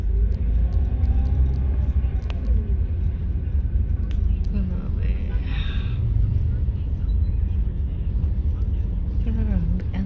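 Heavy, slow road traffic near schools rumbles with constant low engine drone, passing vehicles and a brief horn-like tone, steady and close throughout.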